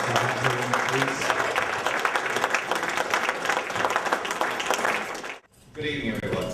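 Audience applause at a Ghanaian Independence Day celebration in Southampton, welcoming the mayor: dense, sustained clapping from a full hall for about five seconds, cutting off abruptly, with a brief swell of clapping and voices after the pause.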